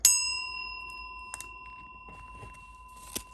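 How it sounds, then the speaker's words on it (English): A single small bell struck once rings out clearly with a pure, sustained tone that slowly fades, followed by faint soft taps in a quiet room during a tarot reading. "We're also going to ring the bell for additional good juju"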